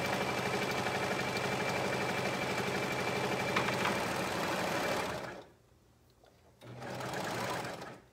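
A serger sewing machine runs steadily while stitching fabric for a holiday nightgown, a dense mechanical whir that stops abruptly, pauses, then starts up again briefly.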